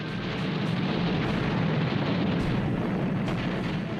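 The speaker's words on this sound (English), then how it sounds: "she took a bomb which penetrated 4 decks before exploding" A wartime bomb blast aboard an aircraft carrier, as a dense, loud, sustained roaring rumble with a few muffled thuds inside it, with no talking.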